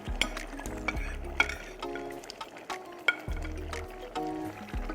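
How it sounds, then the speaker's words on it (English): Jollof rice being stirred in a pot as it cooks, a spoon scraping and scooping with soft sizzling, in irregular strokes close up. "Stir it around to make sure it doesn't burn"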